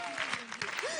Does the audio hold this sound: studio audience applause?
yes